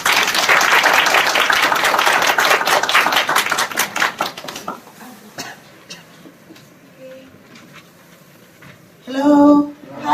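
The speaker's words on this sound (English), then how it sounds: "Give her a big round of applause." Audience claps for a guest speaker at a public English lecture on South African culture: a lively burst of applause for about four seconds that trails off into quiet, followed by a brief voice.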